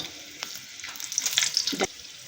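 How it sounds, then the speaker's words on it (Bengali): Whole garam masala, a bay leaf and a dried chilli hit hot mustard oil, giving short crackling sizzle bursts and a brief louder spurt of frying over a quiet kitchen background. "তেল গরম হয়ে গেছে আমি ফোড়নে দেব গোটা গরম মশলা আর একটা তেজপাতা একটা শুকনো লঙ্কা"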